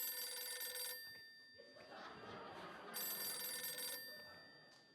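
A telephone rings in a stage drama performance, two bright ringing bursts with a pause between them, heard over a noisy room with faint murmuring and a few chuckles.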